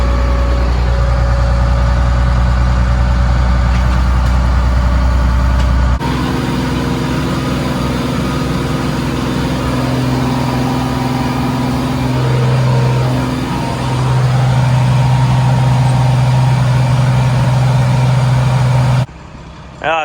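A tractor engine idles loud and close, a steady low drone that changes character partway through as the revs rise and fall, with a brief drop near the end.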